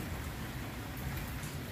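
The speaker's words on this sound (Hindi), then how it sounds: "सुबह सवेरे बारिश हो रही है" Early-morning rain falls steadily as a dense, even wash of hiss, with no voices over it.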